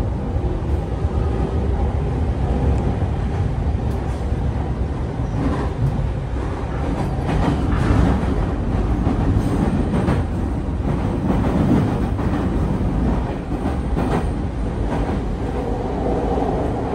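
Onboard ride in a JR East E233 series commuter train on the Chuo Line, with a steady loud rumble of wheels and motors and faint rail clatter throughout, no talking.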